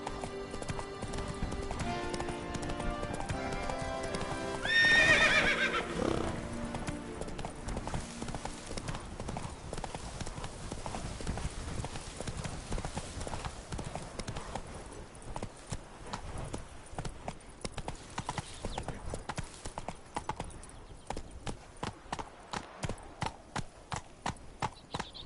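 Hooves of the horse Roach clip-clop steadily in The Witcher 3, a continuous rhythmic gait with a brief louder burst near the start and faint game ambience beneath.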